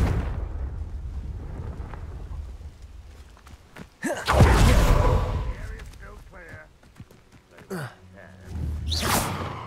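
A Confringo fire spell from Hogwarts Legacy erupts in a loud whooshing blast with a rumbling tail, preceded by quieter ambience and followed by another swooshing burst, with some speech heard alongside.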